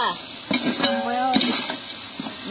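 Onions, tomato, ginger and garlic for dry-fish biryani sauté in a pan with a soft sizzle, along with several clinks and scrapes of a utensil against the pot, while someone speaks over it.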